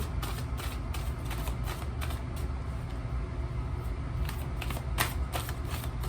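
Tarot cards are shuffled in a steady, rapid riffling rhythm, close and continuous, with soft crisp flutters and a few sharper snaps.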